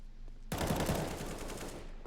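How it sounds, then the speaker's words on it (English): Counter-Strike gunfire opens abruptly as a loud automatic burst, then rattles on continuously for over a second after a quieter lead-in. "So aizy actually shot at Bolts right there."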